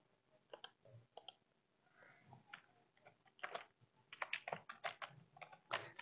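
Text being typed on a computer keyboard while designing a gig thumbnail image, heard as soft, quiet key clicks in uneven bursts that quicken and grow denser toward the end.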